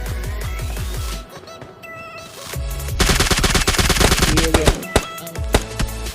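Automatic Mk 14 rifle fire in PUBG comes in loud, rapid bursts of close shots, with a brief pause in the middle and cat-like squeals mixed in.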